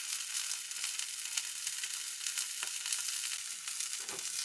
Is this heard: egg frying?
yes